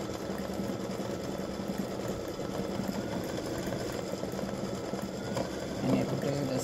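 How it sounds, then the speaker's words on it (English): An embroidery machine satin stitches around the edges of freestanding lace oval earrings, giving a steady, continuous mechanical whir close by for the whole stretch. "it'll do the satin stitching around the edges"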